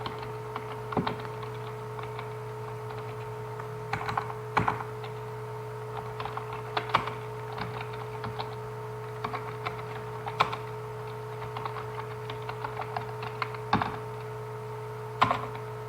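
Keys on a computer keyboard are tapped in short bursts and scattered single clicks during data entry in Tally ERP 9, close and crisp over a steady low electrical hum.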